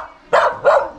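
A village dog in the Kalinga rice-terrace mountains of the Philippines lets out two sharp, loud barks in quick succession, very close and standing out clearly above a quiet background.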